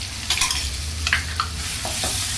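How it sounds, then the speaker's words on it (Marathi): Mustard seeds, cumin, curry leaves and chopped green chili hit hot oil for a bottle gourd stir-fry, giving a bright crackling sizzle with a few sharp spitting pops and stirring scrapes over a low background hum. "मोहरी टाकून घेऊया मोहरी टाकल्यानंतर ना जिरं टाकून घेऊया कढीपत्ता टाकून घेऊया आणि हे मिरची बारीक करून घेतलेली टाकूया"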